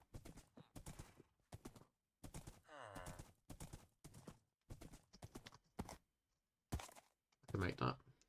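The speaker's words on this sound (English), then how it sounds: "Let's grab my horse as well, make sure he doesn't run off." Hooves of a horse in a village-hunting video game clip-clop in short irregular bursts between pauses, with a loud flurry near the end.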